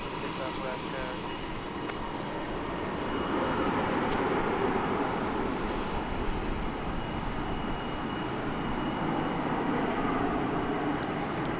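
Airliner on the Austin flight at DFW Airport, a steady jet engine rumble that swells somewhat louder after the first few seconds and carries on evenly at moderate distance, with no talking.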